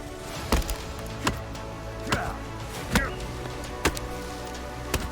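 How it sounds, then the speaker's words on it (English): An axe chops a tree in the survival video game Sons of The Forest, landing sharp, evenly spaced thwacks about once a second over a steady ambient game background, with no talking. "So here we got me chopping the tree down"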